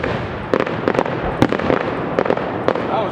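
Fireworks at an evening display in Chestertown, New York burst in a dense string of sharp cracks and pops over a steady crackling rumble, loud and close with no clear talk.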